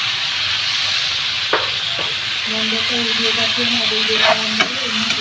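Eggplant frying in oil in a pan, a steady hiss and sizzle of hot oil with a few brief clicks and scrapes, and a low humming tone joining partway, close and continuous.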